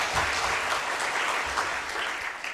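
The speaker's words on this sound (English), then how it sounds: "Can we clap for them?" Audience applause at a film festival screening of young people's work, a steady, dense wash of clapping from a crowd that holds for the whole stretch, fairly close and full.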